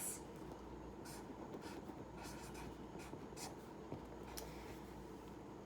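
Pen or marker writing on paper strips for a classroom vocabulary wall, a faint scratchy stroke sound running steadily through the whole stretch, with a few brief louder scrapes and taps.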